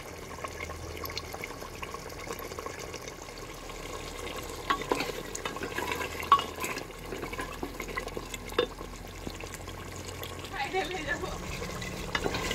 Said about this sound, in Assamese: এইয়া মটন মই ভাজি আছোঁ